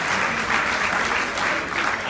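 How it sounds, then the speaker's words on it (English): Steady, dense applause from a stage-event crowd, continuous and even for the whole stretch with no pauses. "can you give a round of applause for that?"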